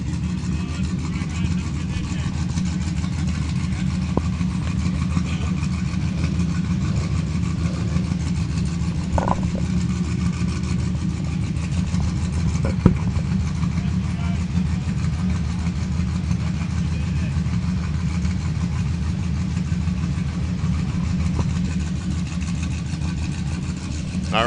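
An off-road race vehicle idling at the start line of the 2022 NORRA 500 in Baja, a steady low engine rumble that holds for the whole stretch, with faint background activity and no clear talk.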